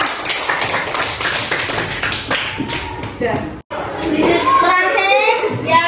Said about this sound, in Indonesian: Tepuk tangan untuk Mas Roma.